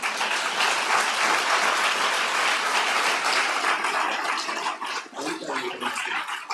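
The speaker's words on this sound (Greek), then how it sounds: "το πιο τρελό σας χειροκρότημα." Loud, dense applause from a large audience at a Greek private-schools association gathering fills the room steadily, thinning slightly near the end.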